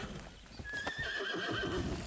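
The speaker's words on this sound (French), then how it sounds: "Alors, le cheval." In the video game Far Cry 6, a horse gives a clear, close neigh while hooves clip-clop beneath it, alone and without speech.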